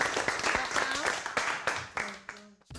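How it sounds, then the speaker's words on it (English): Applause from a small group in a UK TV documentary, a short burst of clapping that fades out over a few seconds while people talk over it. "Shall we give her a clap?"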